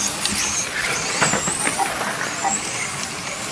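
Electric RC cars race on a paved road track, their high, thin motor whines rising and passing over a steady outdoor hum for a few seconds.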